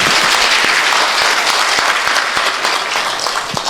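Loud, sustained applause from a lecture audience after the final talk, a dense wash of many hands clapping steadily throughout with no pause, easing slightly at the end.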